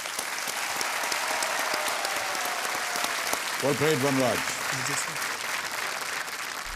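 A studio audience on the Hindi quiz show Kaun Banega Crorepati applauds loudly and continuously as a contestant quits with 25 lakh rupees, while someone speaks briefly over the clapping midway.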